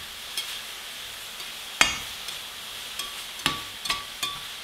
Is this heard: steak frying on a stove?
yes